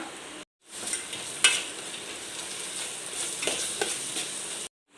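Ginger garlic paste stirred into a sizzling chicken curry masala, with steady frying hiss, scraping spoon strokes and a few brief clinks, continuous and close, broken by short silent gaps at the start and end.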